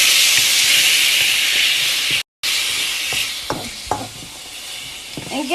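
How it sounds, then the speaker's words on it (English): Shrimp hit hot oil in a pan and sizzle loudly, a dense bright hiss that holds steady, cuts out briefly, then resumes with crackles and spatters close by. "Hit that with a little oil for the shrimp steak. Go ahead and drop my shrimp in there."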